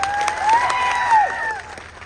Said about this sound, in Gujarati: એકવાર જોરદાર તાળીઓ પાડી લો